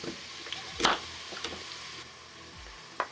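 Onion frying in a Polaris multicooker bowl, a soft steady sizzle with a few louder crackles and spatters standing out, heard close and with no voices.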